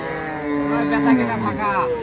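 A cow at a rural cattle market in Dinajpur lets out a single long, close, loud moo that rises and falls over about two seconds.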